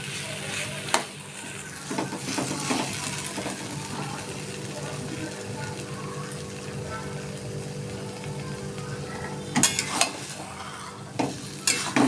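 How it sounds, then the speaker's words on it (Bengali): Jujube fruit sizzles in hot oil seasoned with a dried chili and fennel seeds for a pickle, a steady close frying hiss broken by spoon scrapes and clinks against the pan. "এবার কুলটা আমি তেলের মধ্যে ছেড়ে দিচ্ছি"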